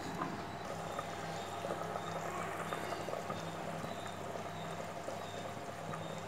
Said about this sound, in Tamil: தண்ணி கொதிக்க ஆரம்பிச்சிடுது.